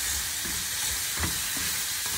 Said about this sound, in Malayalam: നന്നായി ഇളക്കി സോർട്ട് ചെയ്യുക ലോ ഫ്ലെയിമിൽ